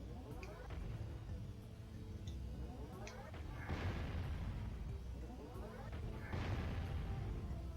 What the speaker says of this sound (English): you can kind of hear how the cannon, when the cannon shot sounds a lot more like intense